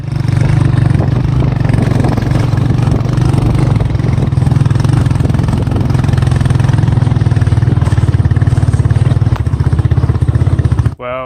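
A motorcycle engine in Malawi drones loudly and steadily as it rides along, a throbbing mid-pitched rumble that cuts off abruptly near the end.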